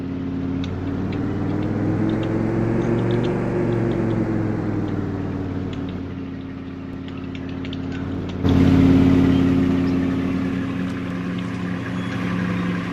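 A vehicle engine in Farming Simulator 22 runs at a steady mid-pitched idle, the revs sagging slightly before a louder surge partway through as it settles back into a continuous hum; no talk over it.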